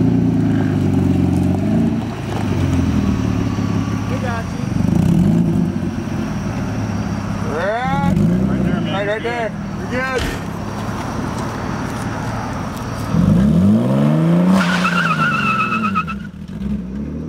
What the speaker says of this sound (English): Let's get into some burnouts.